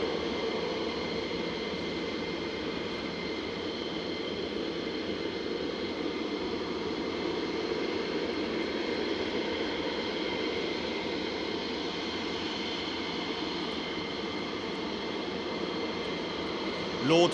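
Dutch F-35 fighter jets at RAF Lakenheath, a continuous broad jet-engine roar that holds steady and fairly loud for the whole stretch, heard from a distance at the airfield.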